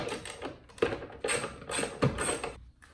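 Ratchet with a 10mm socket removing a Toyota RAV4 brake light, heard as close, quiet bursts of ratcheting clicks in several short strokes.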